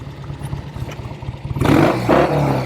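A 1968 Triumph Bonneville 650 motorcycle idles with a low, uneven thump, then its engine suddenly revs up hard and loud, rising twice in a rough, clattering surge.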